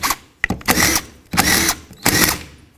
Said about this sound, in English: with the 13mm socket, remove all 4 of these bolts that mount the fan clutch to the fan itself